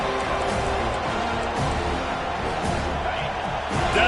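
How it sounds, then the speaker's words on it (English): A football stadium crowd roars on third down as fans rally behind the defense, a dense, steady wall of noise that swells a little louder toward the end. "Decibels rising as the crowd gets behind this defense on 3rd down."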